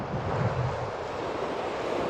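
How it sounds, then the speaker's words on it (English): Strong gusty wind roaring steadily across the microphone at a riverside fly fishing spot out west, a constant loud broadband rush with no voices. "It is so windy."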